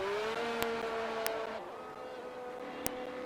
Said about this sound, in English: Ricardo Zonta doing a burnout there, coming into the pit lane